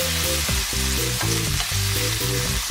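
Food sizzles loudly in a pan with a steady frying hiss, broken by repeated rhythmic shaking and scraping as the pan is tossed about, some of the food starting to burn.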